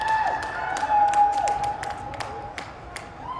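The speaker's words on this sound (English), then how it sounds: "look at the celebration and listen to the crowd below us" A crowd below cheers and claps after a U16 girls' soccer final victory, moderately distant applause and shouts under a whistle-like tone and scattered sharp claps.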